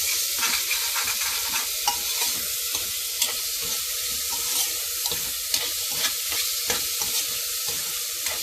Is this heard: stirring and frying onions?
yes